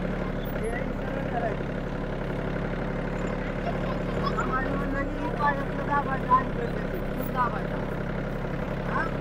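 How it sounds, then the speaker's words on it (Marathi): A tractor engine runs steadily while being driven by a novice, a continuous low rumble that stays close and even throughout, with occasional small bumps and a voice talking over it. "जमलं जमलं मला ट्रॅक्टर चालवायला"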